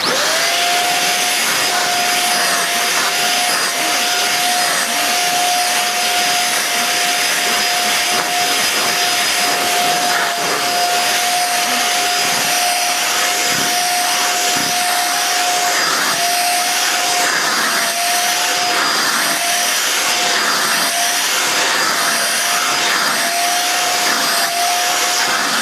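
A Hoover Jovis 550-watt corded handheld vacuum cleaner runs continuously with a loud, steady motor roar and a thin, sustained whine, with no voices.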